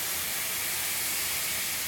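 Whiskey poured into a hot cast-iron pan of browned scallions hisses in a loud, steady sizzle that stays broadband and unbroken throughout, with no talking over it.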